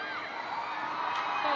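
A large crowd cheers and roars steadily through a women's hockey match between Korea and Scotland at the Women's Champions Challenge, a dense, continuous wash of voices from the stands.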